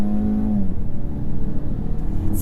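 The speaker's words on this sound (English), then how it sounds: "So that's pretty nice acceleration, and you can hear the engine kind of calming down" A BMW X1 engine accelerates in sport mode, a loud close drone with a rising tone at the start that then settles into a steady rumble.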